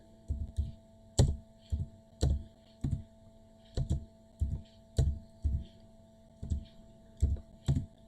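Computer keyboard keys clack in short bursts while Python code is typed into a new file, irregular clusters of close, crisp clicks over a faint steady hum.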